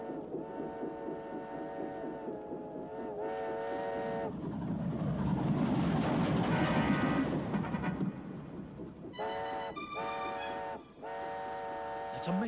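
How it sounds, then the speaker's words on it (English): A train rumbles past with a rising roar in the middle, its whistle sounding in long harmonic blasts before and after, with voices over it. "That's a mail train, isn't it?"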